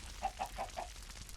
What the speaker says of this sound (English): what's up with all these chickens?